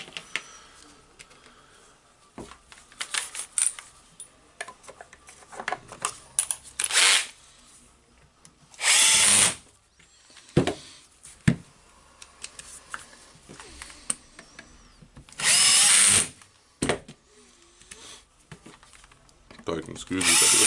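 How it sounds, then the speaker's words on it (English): Screws are driven into a Makita HR2811FT rotary hammer drill under repair, with two short bursts of a powered driver among clicks and clatter from handling parts, close by, while someone talks at times. "So screwing the screws in, so again searching for the 4 same screws."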